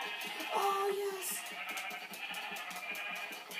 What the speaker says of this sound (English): there's 2 sheep right here, and there's another one over there.